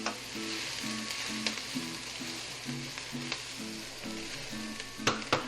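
Mushrooms sizzle in a pan while being stirred into a lasagna sauce. A steady, soft frying hiss runs throughout, broken by occasional spoon scrapes and clicks. A low rhythmic hum sits underneath, with no talking.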